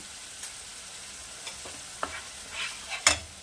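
Ginger and garlic paste sautéing in a pan while cooking a Bengali fish dish: faint, quiet sizzling with a few soft stirring scrapes and a sharper clink near the end, no talk.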